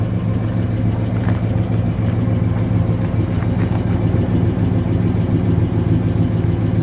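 A 1958 Plymouth Belvedere V8 idles through a glass pack exhaust, a steady deep rumble with a loping low throb that holds even and unbroken throughout, close and fairly loud, with no voices.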